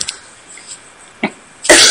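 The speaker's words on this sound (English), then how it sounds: "My cough is painful." A few short coughs sound close by, scattered, with a louder, longer cough at the end.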